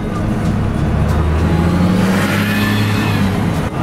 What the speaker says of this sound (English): the rush hour traffic here is pretty unreal